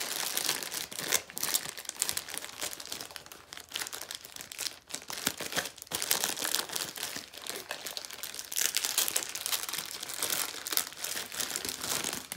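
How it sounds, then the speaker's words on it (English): Plastic packaging around a SLAMTEC RPLIDAR laser scanner kit is torn open and crumpled, giving close, continuous crinkling and rustling with sharper rips scattered throughout. "Just tear it. I'm just going to tear it up."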